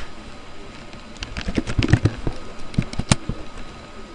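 Laptop keyboard clicking as someone types, with scattered sharp keystrokes that cluster into a quick burst in the middle, picked up by a microphone sitting right under the keys.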